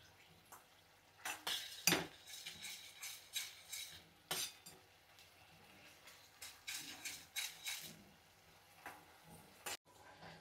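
Masala sautéed in oil in a pan for dum aloo, with uneven bursts of a metal spoon scraping and clinking against the pan over a faint sizzle, close and moderately quiet, with no voices.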